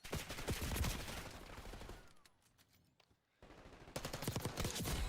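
Call of Duty gunfire in rapid, dense volleys of automatic shots, loud and continuous, breaking off into a brief lull before resuming at full intensity.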